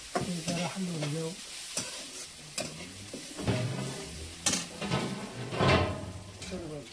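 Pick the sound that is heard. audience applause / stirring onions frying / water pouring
stirring onions frying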